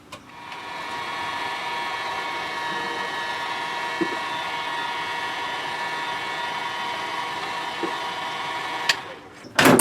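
A heat gun blows a steady, even rushing whoosh onto soldered wire in a Mazda RX3 main wiring loom, loud and close for about nine seconds before a click and brief clatter end it.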